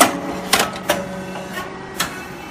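A confectionery machine feeds material from a hopper into a mold, giving several sharp mechanical clacks at uneven intervals over a low steady machine hum.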